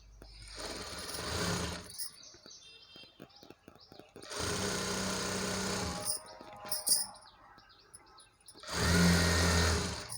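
Sewing machine stitching a double-folded saree hem, three bursts of fast whirring motor run separated by quiet gaps with small clicks and fabric handling, close and fairly loud.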